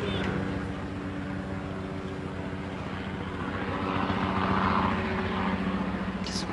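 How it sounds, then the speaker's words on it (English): A jet or propeller aircraft passes overhead during a 2007 Dubai women's semifinal tennis match, a steady broad engine rumble swelling slightly louder toward the middle and end, with a commentator's voice heard over it. "Difficult when something flies, even a jumbo or a plane."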